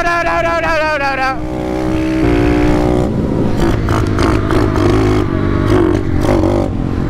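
A pit bike engine revs and bogs during a game of tag, its pitch sweeping up and then stuttering with clattering mechanical noise, close and loud while riders shout over it.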